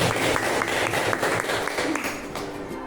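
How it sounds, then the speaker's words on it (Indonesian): Applause from an audience at a school teachers' event, a dense burst of many hands clapping that fades slightly toward the end, with faint voices underneath. "Kita kasih tepuk tangan untuk Bu Seri."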